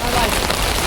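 Heavy rain pours down steadily on a village house with a tin sheet roof, a dense, loud, unbroken hiss filling the whole moment without any clear talking.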